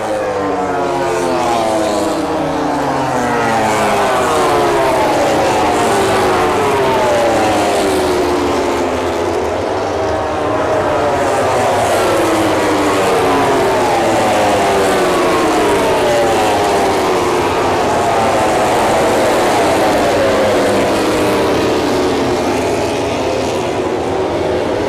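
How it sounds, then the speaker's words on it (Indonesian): Racing motorcycles sweep past one after another at a circuit, a loud, continuous roar of rising and falling engine notes filling the whole stretch with no voices. "Dan ketika motor-motor itu lewat"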